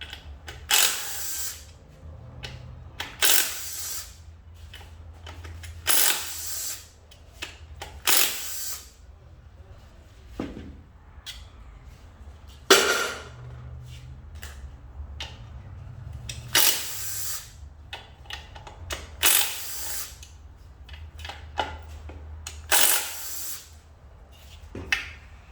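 Power tool taking bolts out of an M5R1 transmission case during disassembly, heard as repeated short, sharp whirring bursts at irregular intervals over a quiet, low background hum.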